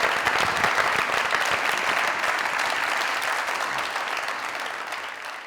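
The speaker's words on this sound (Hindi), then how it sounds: "जोरदार तालियां" Loud audience applause, thick continuous clapping that starts strong and tapers slightly toward the end, with no voices heard.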